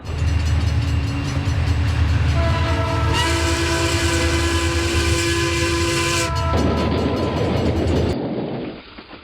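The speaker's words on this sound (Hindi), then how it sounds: "ट्रेन तो रुक भी रही है" A loud passenger train on the Bhopal–Itarsi route rumbles as it slows toward a stop, with a long sustained horn blast over the heavy rolling noise before the sound drops away.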